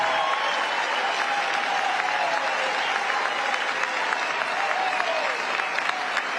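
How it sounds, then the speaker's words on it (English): A crowd at a political speech breaks into steady, sustained applause and cheering that fills the whole stretch evenly, with no voices rising above it. "Listen to that applause."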